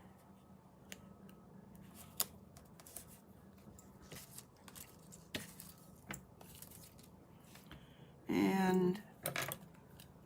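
Scissors make small, quiet snips through card stock while a greeting card is being made, with a brief louder rustle near the end.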